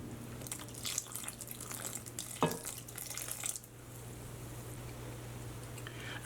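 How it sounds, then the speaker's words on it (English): Batter is stirred in a bowl with water added for a meat-filled puto-pao, giving a steady wet swishing and scraping that runs continuously at close range, with a brief clack partway through and a low hum underneath. "So I'm just gonna keep stirring it until we get that batter consistency that we're looking for."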